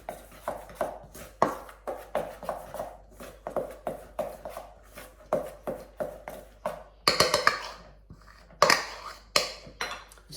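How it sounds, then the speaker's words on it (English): Repeated tapping and scraping of a utensil against a bowl as icing sugar is stirred into buttercream for a gluten-free birthday cake, a steady quick rhythm of close knocks with two louder clatters near the end. "I'm just going to stir in the icing sugar before I pop the mixer back on again"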